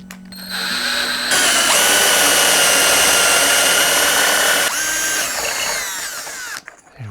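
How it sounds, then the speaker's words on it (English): A power drill driving an extra long 3/8 inch brad point bit at an angle into the cavity of a neck-through guitar body. The drill whines up to speed, holds a loud, steady, high-pitched bore for several seconds, then winds down and stops. "So I'm using a 3/8 inch diameter extra long brad point drill bit, and I'm going to drill from this angle down into that cavity."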